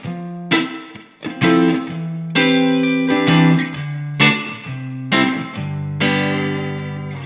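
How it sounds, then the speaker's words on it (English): An electric guitar played through a spring reverb pedal set to a jumpy, piercing character, with a handful of ringing chords and single notes that bloom and trail off in a dense, splashy wash, played alone. "Or maybe you like a spring reverb that's just gonna be jumpy and super"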